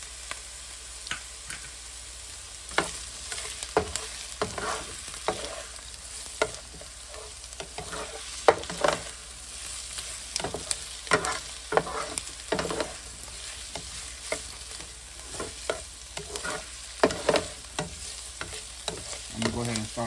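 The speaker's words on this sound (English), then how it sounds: "I'm gonna go ahead and saute this for a couple more minutes" Chicken gizzards with ginger sauté in a pan, giving a steady low sizzle broken by repeated sharp scraping clicks as a utensil stirs, close and fairly loud, with no talking.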